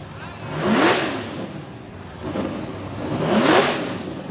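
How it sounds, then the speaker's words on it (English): A drag racing Mustang engine at a radial-tire qualifying event, revved in two or three sharp throttle blips that rise and fall, heard from a distance with crowd and track ambience around it. "Couple of rips on the throttle pedal for Phil Hines"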